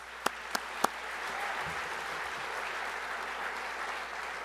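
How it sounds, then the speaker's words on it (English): Audience applauding Prix de West artists at an awards presentation, a steady even wash of clapping from a sizeable crowd after a few sharp, louder claps at the start. "please give all of our Prix de West artists one more round of applause"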